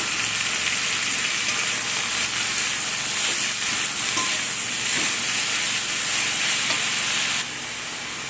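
Banana flower and ginger frying in a pan for mocha chop, making a loud, continuous hissing sizzle with stirring scrapes that drops to a quieter hiss near the end.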